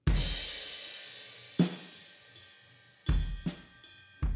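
A soloed stoner doom drum kit with a custom kick and snare. It opens on a long, washing crash, then heavy kick-and-snare hits land in a slow, sparse rhythm, loud and close.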